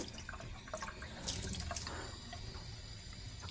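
A leaky Moen 87245BL faucet drips and trickles water into a sink, a close, continuous wet patter with brighter splashes scattered through it.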